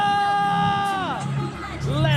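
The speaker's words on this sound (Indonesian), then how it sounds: "Apple Arena, mana tepuk tangannya?" Arena crowd at an Apple Arena Mobile Legends esports match between RRQ and Dewa, whooping and cheering in a loud sustained roar, with a commentator talking over it.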